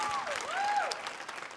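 Brief burst of audience clapping at a live interview panel, moderately loud and steady, with a high whistling or squealing tone sweeping over it.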